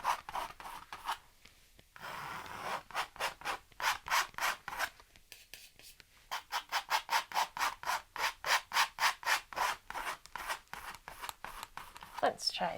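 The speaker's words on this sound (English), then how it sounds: "And we'll just get some of that paint, scrape it down." A painting knife scrapes paint down across a canvas in steady rhythmic strokes, each a dry rasping rub, repeated many times with brief pauses, fairly close and clear.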